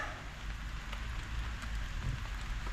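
Steady rain patters on a tarp shelter in a continuous close hiss with low drumming and scattered louder drops, with no voices.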